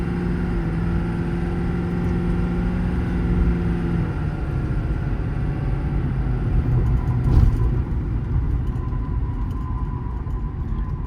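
A 2022 Ford F550 crew cab service truck with a 6.7 Powerstroke diesel and 10-speed automatic cruises along a straight track, a steady low engine hum and road rumble heard from inside, with a brief bump midway.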